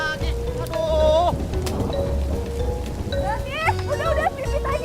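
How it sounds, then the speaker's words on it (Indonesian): Rain falls steadily on a tiled rooftop, a continuous wash of patter that runs through the whole stretch. Voices and other sounds sit on top of it. "baru juga panas, udah dikasih hujan lagi"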